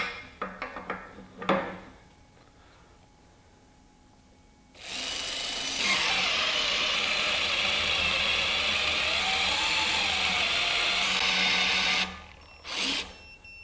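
A RIDGID R86211 high-torque impact wrench removes stretched bolts: a few light clanks, then one loud, steady run of about seven seconds, and a short final burst after it stops.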